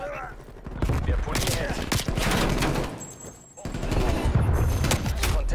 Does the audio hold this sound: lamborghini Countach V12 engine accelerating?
no